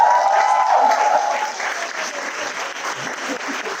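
An audience at a career empowerment talk applauds and cheers for the speaker, a dense wash of clapping that is loudest at the start and then eases slightly, with a few whoops mixed in.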